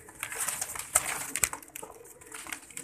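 A pigeon coos softly amid faint background hiss and rustle, low and somewhat distant, with no talking.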